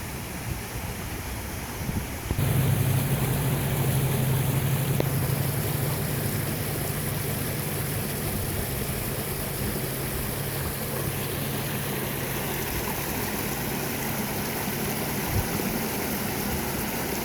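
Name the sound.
Sturt River water flowing in creek, distant road noise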